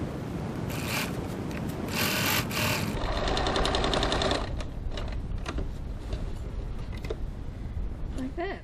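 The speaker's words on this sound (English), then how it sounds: "stitching a 3/8 of an inch or 1 centimetre seam allowance all the way around" A sewing machine runs a 1 cm seam, stitch length 2.5, around the edge of a foam-lined boot-shaped gift bag. It gives a steady, close, continuous whirring hum with no pauses, and its tone shifts partway through.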